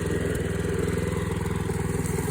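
A lawn mower fitted with a cable in place of a blade, its small engine running steadily nearby with a fast, even putter and no voices.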